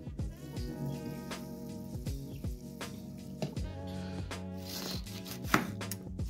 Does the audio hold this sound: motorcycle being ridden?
no